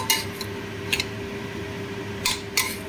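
A spoon scrapes and clinks against a pan while dalia khichuri with turmeric and cumin powder is stirred, a few short metallic taps spaced irregularly over a low steady kitchen hum.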